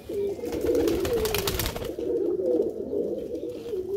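Domestic pigeons coo in repeated low, throaty phrases at close range, with a brief burst of rustling or wing noise partway through and no voices.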